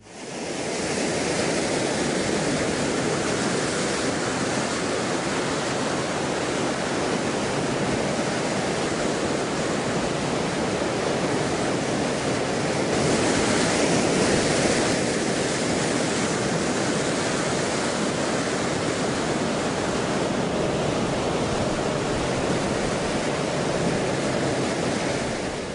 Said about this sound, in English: where river water and sea waves collide, creating unstable walls of water